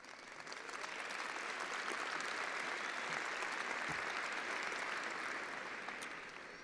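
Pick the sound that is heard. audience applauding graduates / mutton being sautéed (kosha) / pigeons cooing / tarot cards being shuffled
audience applauding graduates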